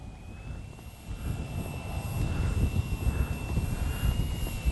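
An FMS 1800mm Ranger RC plane flies on its electric motor as it comes in to land, a steady whining drone with a sustained high tone that swells slightly as the plane nears, on a somewhat windy day.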